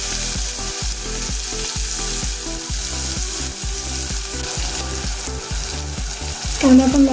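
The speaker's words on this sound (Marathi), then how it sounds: "त्याचबरोबर आता आपण कांदा घालून घेऊया." Chopped onion sizzles loudly in a hot pan with finely chopped ginger and garlic for a Maharashtrian thali, a steady frying hiss with repeated stirring scrapes throughout.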